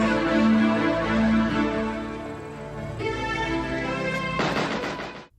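Uzi gunfire in the low-budget splatter film Bad Taste, a loud sustained burst of rapid automatic shots with crashing impacts over a dense dramatic movie soundtrack, cutting off abruptly at the end.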